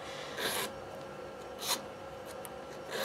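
A nail file rasps on an artificial nail tip on a practice nail trainer in a few short strokes, quiet and close, with soft scratchy bursts separated by brief pauses.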